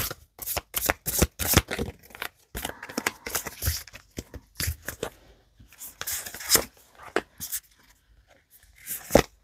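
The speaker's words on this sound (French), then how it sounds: "je vais commencer par faire l'étalement avec le tarot" Tarot cards being shuffled and spread, a dense run of quick riffling snaps and flutters in irregular bursts, close and fairly loud, with no voice over them.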